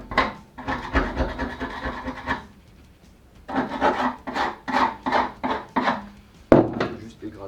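Scraping surface corrosion off metal floor panels gives repeated rough rasping strokes in bursts, close and fairly loud, separated by short pauses.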